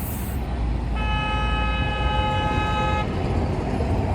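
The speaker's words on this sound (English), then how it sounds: "the traffic is pretty unforgiving" A car horn blares in a single sustained honk lasting about two seconds over the steady rumble of city traffic in Belgrade, close and loud, with no talk.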